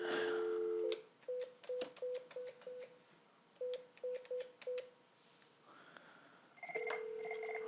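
Telephone on a Cisco Unified Communications Manager 10 system signalling an incoming call from an outside phone, with steady tones and a series of short repeated electronic beeps and pulses, close and clean with no voices.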